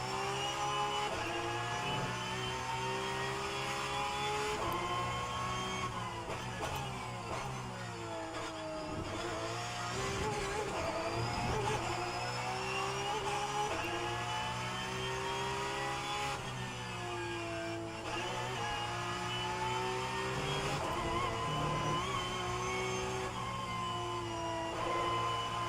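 Porsche Cup race car engine in the rFactor 2 racing game, a loud continuous high-pitched whine that rises and drops sharply with repeated gear shifts and braking.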